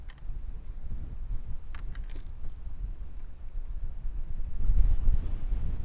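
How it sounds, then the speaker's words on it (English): Strong wind buffeting the microphone while fishing outdoors, a steady rumbling gust that swells louder near the end, with a few faint clicks from fishing gear and no talk. "that wind is no kidding."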